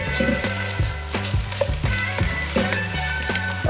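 Garlic fries in a pot with cooked-down onions and vegetables, a steady close sizzle running beneath rhythmic background music with a regular beat.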